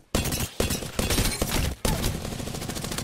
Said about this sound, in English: Oh, this is select fire. I thought this was fucking burst. It kind of sounds so weird.